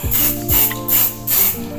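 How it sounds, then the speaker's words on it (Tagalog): Tiger aerosol spray paint in bright red, sprayed in four loud, close, hissing bursts of about a third of a second each, separated by short pauses. "naka aerosol na kaya pagka binuga mo siya para talagang spray parang spray gun talaga"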